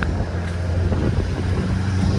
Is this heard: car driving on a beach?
yes